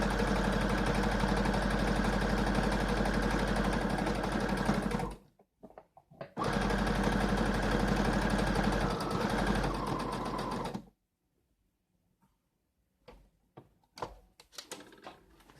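Sewing machine stitching a T-shirt, a loud fast steady whirring run that pauses briefly, resumes for several seconds, then stops, followed by a few faint handling clicks.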